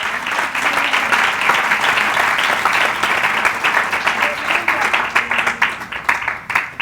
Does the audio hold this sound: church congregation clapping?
yes